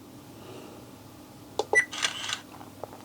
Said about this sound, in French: Voilà, j'ai fait 2 photos.